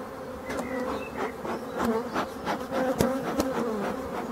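Honey bees buzz loudly and continuously around an opened, smoked hive during a frame inspection, a dense close drone with individual bees zipping past.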